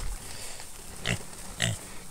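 Three baby pigs grunt at close range, two distinct short grunts standing out over a steady rushing outdoor background.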